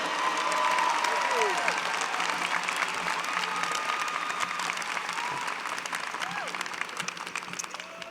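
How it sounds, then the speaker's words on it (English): Crowd at the Baruch College 2019 commencement gives sustained applause with some cheering, a thick bed of clapping heard from a distance that slowly thins toward the end. "please join me in another round of applause for our salutatorian"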